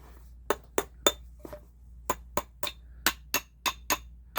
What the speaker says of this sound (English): Move the hammer around in your lap. Keep it tapped down.